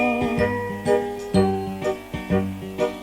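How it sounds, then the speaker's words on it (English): A bright little bell on a toy character's hat tinkles in repeated jingling strikes over a bouncy, tuneful musical backing from a children's story, each ring ringing out clearly. "Noddy, his tinkling bell means he's the happiest little fellow in all Toyland"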